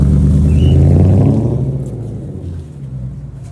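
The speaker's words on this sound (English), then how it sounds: "You can listen to them revving." Loud-exhaust modified cars rumble and rev at a car meet in Bengaluru, a heavy, close, low growl that swells at first and then slowly eases into a steadier drone.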